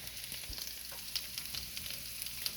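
Mixed vegetables dumped into a pan of water over high heat give off a steady, close crackling sizzle with small irregular pops and stirring noises, and no voices.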